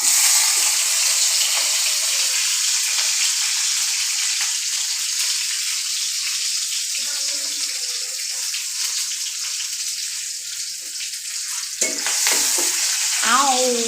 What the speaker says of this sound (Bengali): এখন রসুন ভাজবো।